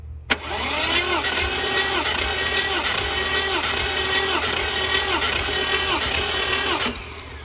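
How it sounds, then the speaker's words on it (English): A Mercedes M117 5.8 V8 cranks over on its starter during a compression test, a steady, rhythmic whirring chug with even pulses that runs for about seven seconds at close range, then stops abruptly. "But let's try cranking it again."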